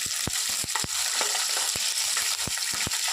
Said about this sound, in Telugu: ఇవన్నీ బాగా ఫ్రై అయ్యేలాగా మనం ఫ్రై చేసుకున్నాము.